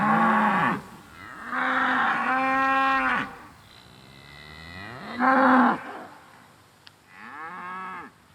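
Cattle mooing on a farm, several long loud lowing calls with pauses between them, near and alone.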